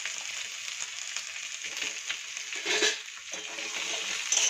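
Chicken fries in butter with tomato, capsicum and onion, giving a close, soft crackling sizzle with a brief surge of louder spattering partway through.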